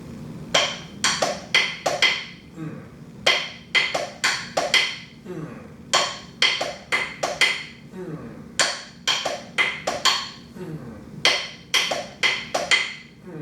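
A hand drum plays a three-over-four rhythm pattern with added space, sharp close strikes in repeating groups with a steady low background hum, no talking.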